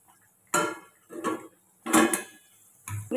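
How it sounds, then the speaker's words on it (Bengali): A metal steaming tray is set down onto a stand inside a cooking pot, giving several separate clinks and metallic knocks spaced through the moment, close and clear in a quiet kitchen. "এবারে এই ট্রেটি এর উপরে বসিয়ে দেবো খুব সাবধানে"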